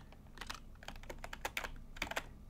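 Computer keyboard keys clack in quick irregular bursts as emulator controls are changed, a soft close-up tapping with brief pauses between presses.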